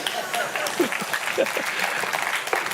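A church congregation keeps up steady applause after the worship music, while someone speaks over the clapping.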